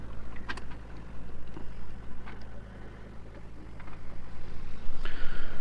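A sailboat motors under engine power on a calm passage toward Mindelo, Cape Verde, with no sails set and almost no wind; a steady low engine drone and hum persists throughout, with light water and hull noise and a few faint clicks.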